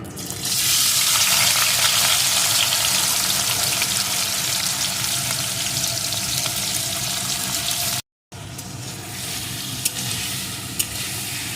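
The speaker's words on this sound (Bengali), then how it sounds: "এখন আমি ওই লবণ হলুদ মাখানো চিংড়ি মাছগুলোকে এর মধ্যে দিয়ে ভেজে নেব" Prawns rubbed with salt and turmeric fry in hot mustard oil, giving a loud, continuous close-up sizzle that drops out briefly and then resumes more quietly.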